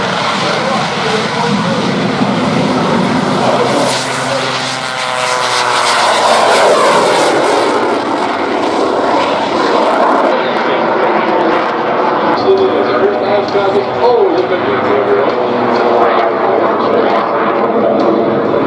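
Yak 55 aerobatic propeller airplane engines roar and drone overhead at an airshow, pitch rising and falling as they pass, loud and continuous with an announcer talking over them.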